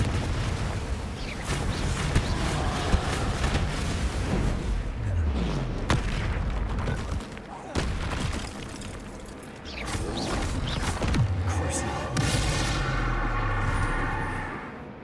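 Confringo spell explosions in the Hogwarts Legacy video game: repeated loud booms and blasts go off in a dense, continuous stream of game sound, with voices heard at times.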